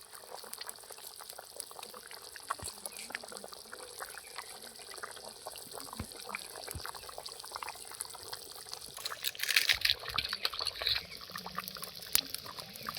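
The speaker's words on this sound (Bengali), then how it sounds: "খালি টকবক টকবক টকবক করে ফুটছে" Fish curry (machher jhol) with a fish head and pieces simmers in a pan, giving a faint, continuous bubbling and popping with a slightly louder burst near the end.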